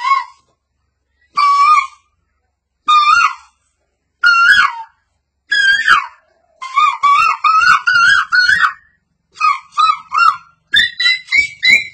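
A person imitates roosters crowing at dawn, answering one another: a dozen loud, close cock-a-doodle-doo calls, spaced at first, then coming in quick overlapping runs.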